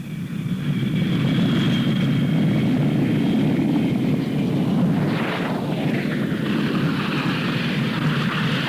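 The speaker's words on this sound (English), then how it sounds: "The Hoshiyamas have flown on to London." A steady, loud airplane drone fills the scene as a radio drama sound effect for a flight to London, a continuous engine roar with a brief whooshing swell partway through and no voices.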